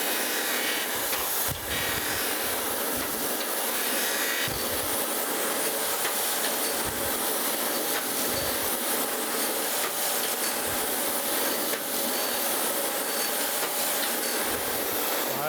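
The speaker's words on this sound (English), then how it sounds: "let the automatic feed take over now. We'll finish grinding this until we get a nice clean face all the way across." A surface grinder on automatic feed grinds a cast iron straight edge, giving a continuous loud hissing, rushing roar with a faint steady whine and slight periodic swells as the wheel passes over the workpiece.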